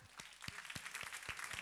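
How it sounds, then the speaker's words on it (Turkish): A television talk-show studio audience claps in brief, faint applause with distinct individual hand claps, heard alone without talk. "Alkışlar."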